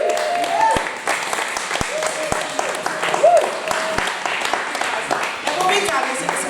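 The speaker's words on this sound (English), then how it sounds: "I would like you to give a round of applause to these fantastic actors." A drama class audience breaks into steady, dense applause for the actors, close and sustained, with a few voices talking over the clapping.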